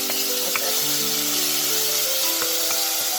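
Onion, garlic and bacon sizzling loudly in a pan, a close, steady hiss with a few light stirring knocks and tonal kitchen hum underneath, no voices.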